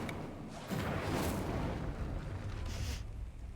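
A fire spell is cast in a Harry Potter wizarding video game, flaring into a loud, sustained whooshing roar of flame that builds quickly and holds steady for a few seconds with no talking.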